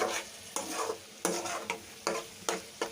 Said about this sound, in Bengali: তো তেল দিয়ে দিলাম অল্প তেলে বসতে সবসময় একটু দিলাম